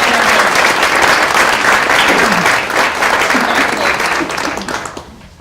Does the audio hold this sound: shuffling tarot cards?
no